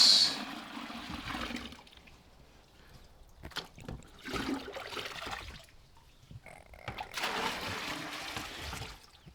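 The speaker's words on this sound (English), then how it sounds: "now since I have extra, I'm going to continue to put in some water" Water pours and splashes into a medaka fish tub while it is topped up during a water change, coming in gushing bursts separated by quieter pauses with occasional handling noises.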